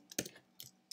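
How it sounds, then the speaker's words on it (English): A few soft keystrokes on a computer keyboard, heard as two or three quick separate clicks in a quiet room with no talking. "I'm gonna type Apple"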